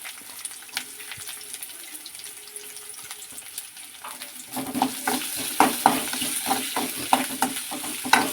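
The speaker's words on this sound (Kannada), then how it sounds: "ಆಮೇಲೆ ನಾನು ಹೆಚ್ಚಿಟ್ಕೊಂಡಂಥ ಈರುಳ್ಳಿ ಹಾಕ್ಕೊತಿದ್ದೀನಿ." Chopped onions are added to a pan after garlic paste and fry with a soft sizzle that turns louder and busier midway, punctuated by repeated stirring scrapes.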